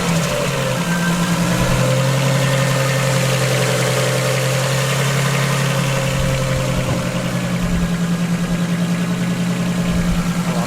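A Nissan 240SX S14 with a big-turbo RB25 engine runs at a steady idle, a loud, droning hum with constant low vibration, heard close up and alone.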